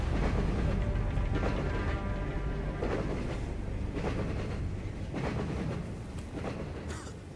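A train rumbles past with a steady, loud rolling roar and faint rhythmic clatter in the tactical shooter Ghost Recon Future Soldier, filling the scene from start to finish.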